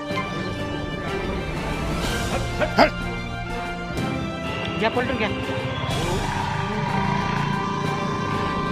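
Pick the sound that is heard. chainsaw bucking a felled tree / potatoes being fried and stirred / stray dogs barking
stray dogs barking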